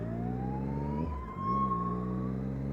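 A police vehicle on the road sounds a loud, sustained siren-like wail that rises in pitch, close by, over steady motorcycle engine rumble from a Triumph Daytona 675 with no one talking.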